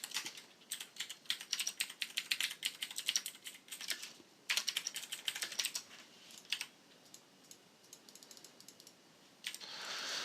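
Rapid keystrokes on a computer keyboard while JavaScript jQuery code is entered, arriving in dense bursts of close, crisp clicks with short pauses between them, louder near the start and fading to sparse taps before a final flurry, with no voices.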